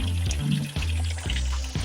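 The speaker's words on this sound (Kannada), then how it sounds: "ನೋಡಿ ಅಮ್ಮ ಗೇರು ಹಣ್ಣಿನ ರಸ ಹಾಕ್ತಾ ಇದ್ದಾರೆ." Cashew fruit juice splashes and gurgles as it is poured into a biogas plant, a steady liquid pour broken into several pulses, close and moderately quiet.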